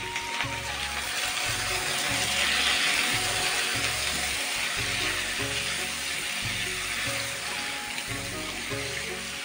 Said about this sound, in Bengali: এই তেলের মধ্যে আমি এখন আলু বেগুনটা ভেজে নেব।